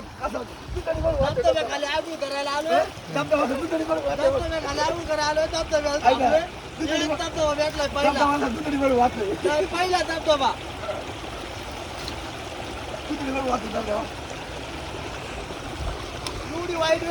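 Rushing water of a hidden waterfall near Bhimashankar roars steadily underneath while several people bathing under it shout and chatter loudly over it; the voices fade later, leaving the continuous splashing.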